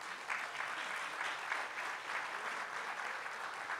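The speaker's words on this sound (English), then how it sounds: "may we give him a round of applause" Steady, dense applause from a conference audience welcoming a keynote speaker at a business leadership event, even and sustained throughout with no pauses.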